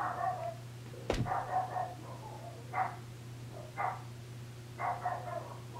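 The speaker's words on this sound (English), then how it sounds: "Ignore the barking in the back." A dog barks in short bursts from a distance, four or five separate yaps spread out over a steady low hum.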